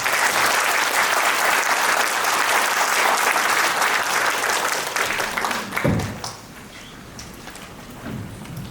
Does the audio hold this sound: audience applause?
yes